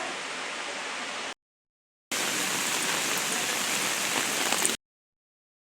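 Heavy rain pouring steadily on surfaces in Shrivardhan, a loud dense hiss in two long bursts broken by short silences, no voices.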